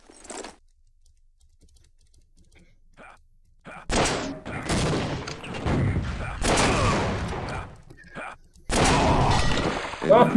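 Rocket launchers fire and explode in a Team Fortress Classic deathmatch, with loud, dense bursts of blasts and impacts arriving in several long volleys after a quiet stretch.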